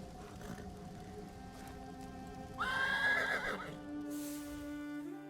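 Horses neigh in the Elder Scrolls Online game world, one clear whinny rising above a steady ambient bed with soft hoof clip-clop, all at moderate level with no talk.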